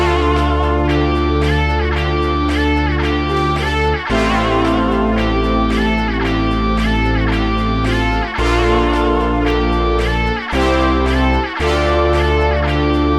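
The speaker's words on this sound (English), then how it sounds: "I created my own bass line plus built my own chords on top of that bass line," A dark bass and analog synth carry a deep bass line with layered chords on top. The sustained low notes shift at a few points under a bright, pulsing upper layer, loud and steady, with no voices.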